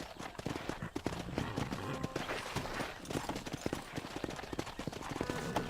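Horse hooves in Red Dead Redemption clip-clop steadily in a quick running rhythm, several horses together at moderate loudness beneath a rough outdoor game ambience, with faint voices in places.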